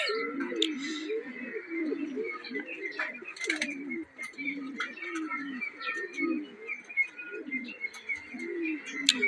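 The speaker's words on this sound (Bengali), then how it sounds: "এখান থেকে কবুতরটা আসছে, এটা একটু অসুস্থ মনে হচ্ছে" A weak, slightly ill pigeon coos in a steady run of soft, low, rhythmic calls throughout, with occasional higher chirps from other birds nearby.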